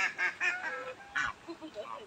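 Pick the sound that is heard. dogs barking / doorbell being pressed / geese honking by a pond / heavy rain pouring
geese honking by a pond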